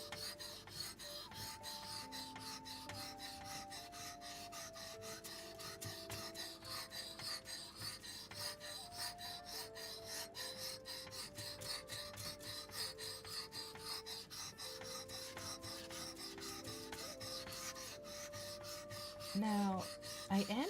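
A blunt woodcutter's hand axe is drawn across a whetstone in repeated rasping, rubbing strokes, close and steady, with a brief louder scrape near the end and no voices.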